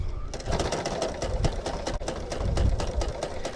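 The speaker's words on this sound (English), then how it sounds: "now I'm going to do that second stitch around here" A sewing machine runs steadily, stitching a second line around a quilt block: a fast, continuous mechanical chatter of needle strokes that stays close and fairly loud for the whole stretch, briefly catching at one point.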